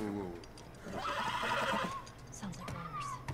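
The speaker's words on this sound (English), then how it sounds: "Stay with the horse." Horse in The Last of Us video game neighing, a clear rising-and-falling whinny in the middle, with a shorter second call and faint hoof clops, and a voice speaking around it.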